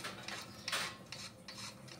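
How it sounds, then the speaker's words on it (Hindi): Beetroot and carrot rubbed against a grater make quiet, rhythmic rasping strokes, about half a dozen passes in quick succession. "ये बीट है और गाजर है, दोनों मैं घिस लूँगी।"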